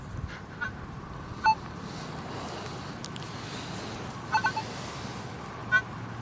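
Short electronic beeps from a metal detector checking a small pointed iron find, with four brief chirps spaced irregularly over a steady outdoor background hiss.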